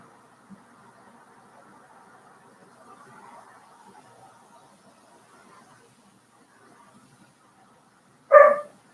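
A single short, loud dog bark close by near the end, after several seconds of faint, quiet room background.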